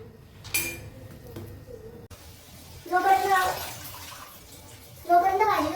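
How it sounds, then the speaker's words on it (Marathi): Leafy vegetables are washed in water, with splashing and sloshing bursts and the faint clink of a vessel, while a voice speaks nearby. "जोपर्यंत भाजी स्वच्छ पाणी निघतं ना तोपर्यंत धुवायचं."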